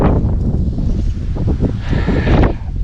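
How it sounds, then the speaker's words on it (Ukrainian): Loud, gusty wind buffeting the microphone with low rumbling roar and some rustling, continuous and close. "вітер дує"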